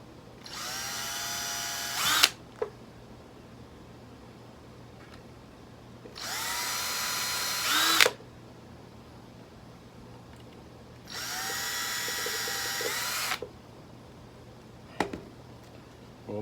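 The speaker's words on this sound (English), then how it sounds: "So you just need to make some little holes here." A power drill makes small holes in three separate bursts, each a loud whining spin of about two seconds ending in a small clunk, with quiet pauses between them.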